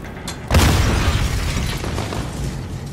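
A grenade explosion in Call of Duty Modern Warfare hits with a sudden loud boom, then a long rumbling, crackling decay that fills the rest of the moment; no talking over it.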